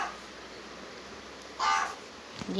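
A crow caws in a short, loud burst, one harsh call near the microphone, with quieter outdoor background before and after it.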